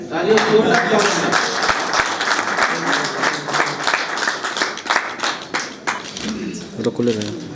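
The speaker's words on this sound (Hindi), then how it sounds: "तालियों से जोरदार तालियां" Loud applause from a crowd at a gathering, dense clapping sustained throughout with voices mixed in.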